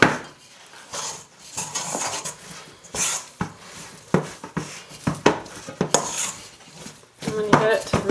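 A spoon works through thick sourdough bread dough in a bowl, giving irregular scraping knocks and clinks against the bowl in uneven bursts, close and fairly loud, with brief pauses between strokes.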